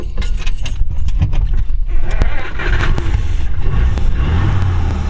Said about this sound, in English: I thought I'd fire it up one more time and take you back to the ranch.